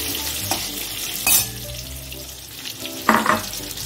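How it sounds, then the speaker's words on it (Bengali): Salted potatoes frying in oil in a wok, a steady close sizzle broken by a few louder stirring scrapes and spatula knocks. "এবার আলুটা ভাজবো"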